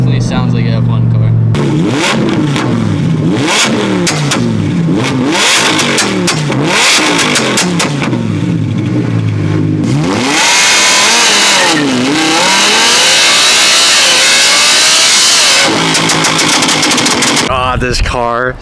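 An Audi R8 with a loud aftermarket exhaust revs hard again and again, its high-pitched wail sweeping up and down in rapid bursts, close and very loud, with voices heard briefly between pulls.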